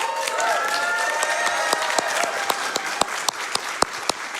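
A crowd at Summer Games Done Quick 2025 applauds a Crash Twinsanity speedrunner in a dense, sustained burst, with a few sharp individual claps close to the mic punctuating the steady roar.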